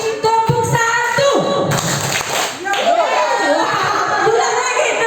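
An audience of teachers at a training session claps out a patterned clapping game on cue, several bursts of group hand claps mixed with a voice leading the count.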